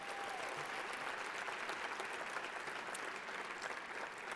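Steady applause from a banquet crowd, a dense continuous patter of clapping throughout.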